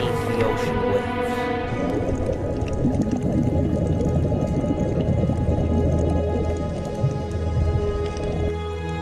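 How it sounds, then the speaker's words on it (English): Low, drawn-out whale calls moan beneath a steady wash of rain-like noise, with a soft rumble underneath. "the majestic whale"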